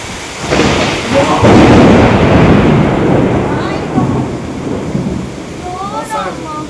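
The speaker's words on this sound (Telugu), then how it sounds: "ఇంత ఉరుములేస్తున్నాయి" A long, deep roll of thunder rumbles over heavy rain in Visakhapatnam, swelling loud then fading, with a voice speaking briefly near the end.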